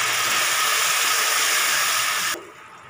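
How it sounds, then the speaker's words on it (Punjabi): Water poured into hot tempering with turmeric in a pan sets off a loud, close, hissing sizzle that holds steady, then drops abruptly to a quieter simmer near the end, with no one talking. "ਹੁਣ ਆਪਾਂ ਪਾ ਦੇਵਾਂਗੇ ਵਿੱਚ ਪਾਣੀ ਅੱਧੀ ਗੱਲੀ,"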